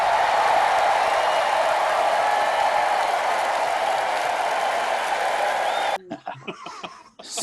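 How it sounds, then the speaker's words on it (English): A small studio audience gives a brief round of applause, dense clapping that holds steady for several seconds and then cuts off abruptly, followed by faint murmurs and light laughter. "Yay, round of applause."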